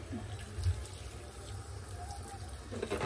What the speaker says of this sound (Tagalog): Lagyan rin natin ng mainit na tubig.